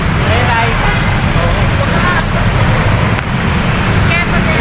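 Dense, steady roadway noise from heavy traffic in Antipolo near Sumulong, with crowds walking past, a constant loud rumble of engines; voices talk faintly underneath throughout.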